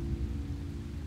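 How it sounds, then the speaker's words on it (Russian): Rain pours in Minecraft, a constant dense low wash of falling water with a droning rumble, heard alone with no talk. "На улице дождь."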